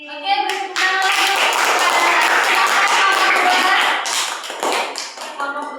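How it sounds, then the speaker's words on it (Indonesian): A class of students in a microteaching lesson claps for a student group, a brisk, close burst of many hands that swells, holds, then thins out near the end. "Oke, beri tepuk tangan lagi"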